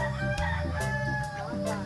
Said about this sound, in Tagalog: itik at saka manok